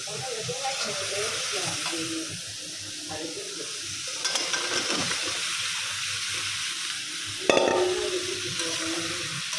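Eggplant and potato curry is sautéed in a pan, giving a continuous moderate sizzle with occasional stirring knocks and a sharp clatter near the end.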